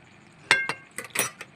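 Metal spatula scraping and clinking against the pan while stirring a boiled pumpkin and potato curry with lentils, a handful of quiet, close taps and clinks at uneven intervals.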